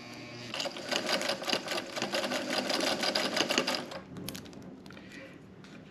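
A sewing machine stitching bias tape runs in a fast, steady mechanical whir with rapid needle clatter for about four seconds, then slows and stops with a few soft clicks, close and alone.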